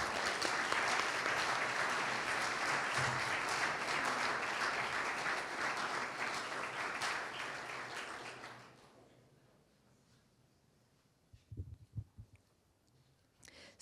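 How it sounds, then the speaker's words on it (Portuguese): An audience at a university project presentation with architects Eduardo Souto Moura and Pedro Ramalho gives dense, sustained applause that fades out after about eight seconds, followed by a few faint knocks and rustles. "E eu acho que pedia uma grande salva de palmas ao arquiteto Pedro Ramalho"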